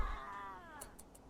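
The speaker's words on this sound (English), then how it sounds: "We're being hunted by cats." Cats meowing and caterwauling in the RimWorld video game as they hunt a colony, with a drawn-out falling yowl followed by a few short, faint high chirps, all fairly quiet.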